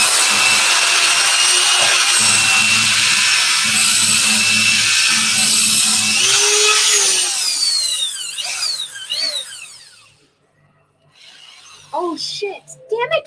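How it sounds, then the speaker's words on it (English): An electric drill whirs loudly for several seconds, stirring fake food mold material in a container, a steady high-pitched mechanical whine with a low hum that cuts out, followed by a voice speaking. "we're using a drill"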